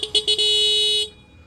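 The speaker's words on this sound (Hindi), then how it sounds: "तो हॉर्न साउंड आपको सुना दूंगा।" A 2024 TVS Raider 125 motorcycle horn gives a few quick short beeps, then one steady honk lasting under a second, close and fairly loud.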